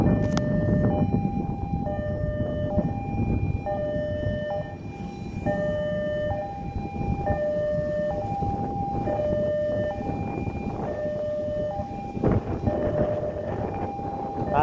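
A KRL commuter electric train passes along the line in Indonesia, its loud continuous rumble steady throughout while a two-tone horn or warning signal repeats in a regular stepped pattern over the top.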